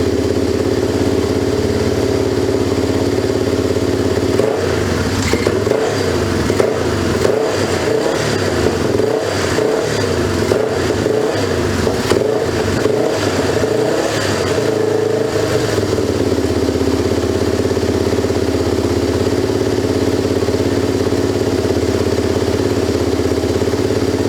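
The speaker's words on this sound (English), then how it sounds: "It just won't idle. It'll idle for a little bit, then it's just quit." A 2004 Yamaha TTR 250 motorcycle engine with carburetor trouble blips through a series of sharp revs, then settles into a steady, somewhat rough idle, close and loud with no talking.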